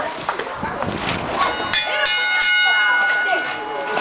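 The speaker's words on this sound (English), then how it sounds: "Ring the bell!" A wrestling ring bell clangs amid a noisy indie wrestling crowd, with ringing metallic tones showing through shouting and cheering voices.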